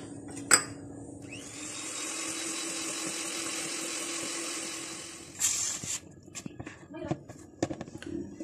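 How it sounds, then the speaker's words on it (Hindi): An electric hand mixer whirs steadily for several seconds while beating an egg into butter and sugar for an orange marmalade cake, then stops; clatter and bowl knocks follow. "अब इसमें हम बारी बारी अंडे डालते जाएंगे और बीट करते जाएंगे"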